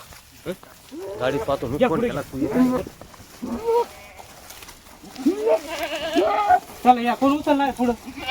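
Goats bleat repeatedly at a busy livestock market, several wavering cries near and loud in short bursts, with people talking among them.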